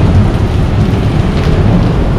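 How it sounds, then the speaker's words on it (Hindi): Heavy rain pours steadily with a low rolling rumble of thunder at Bangkok's Ekkamai bus terminal, a loud, dense, continuous wash of sound with no voices. "बारिश हो रही है"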